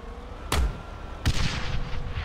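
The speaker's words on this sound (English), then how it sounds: "He was shooting up on the hill." Two loud gunshots ring out in the military shooter ARMA 3, spaced under a second apart, each followed by a rolling echo over steady outdoor ambience.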